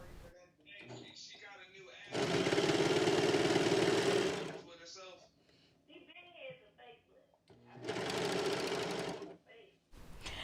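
Brother PS3734T serger stitching a sample piece of fabric on a test run: two bursts of steady, rapid mechanical whirring, each a couple of seconds long, with quieter clicks and handling sounds between them.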